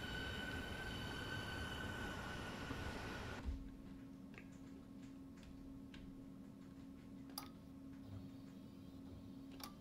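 A Berlin S-Bahn train in a winter Ringbahn run in Train Simulator brakes as its loud rolling roar cuts off abruptly, leaving a quiet steady hum with scattered ticks and clicks.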